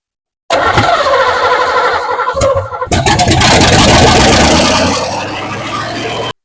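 A 350 V8 in a third-generation car is cranked and fires up, with a short burst of starter and engine noise, a brief pause, then the engine catching and running loud and close, settling into a steady idle.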